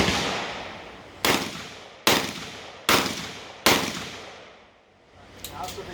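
An AR-15/M16 rifle fires four sharp, loud single shots in semi-automatic, evenly spaced about a second apart, each with a short echoing tail, followed by a quieter stretch with faint rattling.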